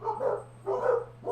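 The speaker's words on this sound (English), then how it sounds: "Or the dog just going doggo at the moment?" A dog barks three times in quick succession, each bark short and fairly loud, with brief gaps between them.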